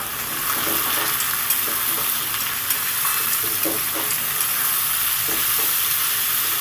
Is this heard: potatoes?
yes